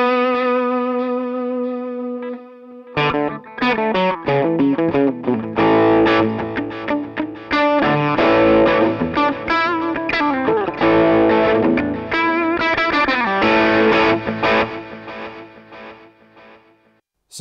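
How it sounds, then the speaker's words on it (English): An electric guitar plays through a NUX Mighty Space amp with pan delay, opening on a held chord and then moving into a busy, distorted run of notes. Echoing repeats smear and trail each phrase, loud and close throughout. "let me just show you what the pan delay sounds like"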